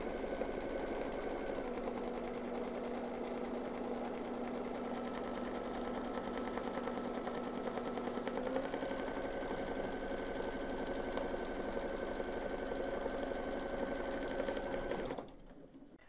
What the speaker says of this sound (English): it's going to stitch the little paws afterwards, and you don't want it bunching up your fleece